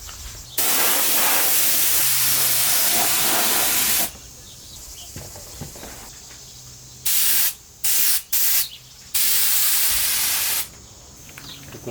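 A spray gun applies coating to the body of a BMW 750iA V12 in loud hissing bursts: one long spray of several seconds, then a run of short on-off blasts, each cutting off sharply.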